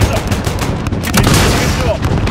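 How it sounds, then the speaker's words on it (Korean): Missile launches and rapid gunfire from the Call of Duty: Modern Warfare campaign, loud dense bursts and booms crowding together, with voices heard in the mix. "미사일 발사. 미사일 발사."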